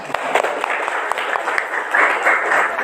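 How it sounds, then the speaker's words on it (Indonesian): Students in an Islamic studies classroom give a short round of applause, a mid-level patter of many hands clapping with light crowd noise, continuing evenly throughout. "Berikan tepuk tangannya"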